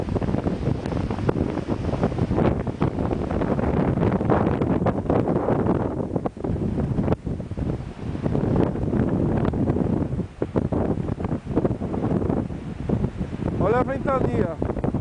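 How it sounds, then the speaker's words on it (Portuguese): Strong gusts batter the microphone during a spring 2007 blizzard, a loud, steady roar that swells and eases across the stretch, with a voice briefly audible near the end. "Olha a ventania."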